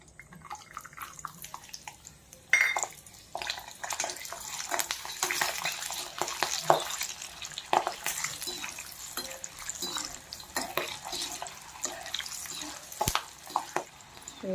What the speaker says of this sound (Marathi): सर्वात प्रथम आपण शेंगदाणे तळून घेऊया